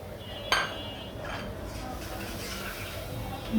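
Spice masala with tomato is sautéed and stirred in a pan for a Bengali rohu fish curry, opening with a sharp clink of utensil on pan followed by soft scraping and a low sizzle, faint and close.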